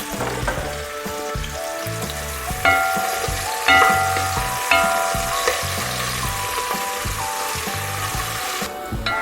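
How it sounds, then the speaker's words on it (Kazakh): Onions frying in oil in a hot cauldron, a steady loud sizzle and crackle with occasional stirring clatters and no voices. "Енді біз қызып тұрған қазанға май құйып, оған пиязымызды саламыз да қуырып аламыз."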